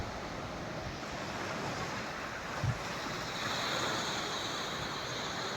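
Sea surf at Mae Haad beach on Ko Pha-ngan island makes a steady broadband wash mixed with wind buffeting the microphone, with a slight swell toward the end.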